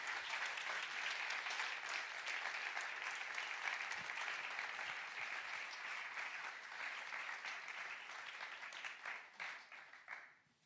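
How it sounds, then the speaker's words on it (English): Conference audience at m4music welcoming songwriters Andrea Stolpe and Gregor Schwellenbach with long, sustained applause, a broad, steady roar of many hands that holds for about ten seconds before tapering off at the end. "Big applause."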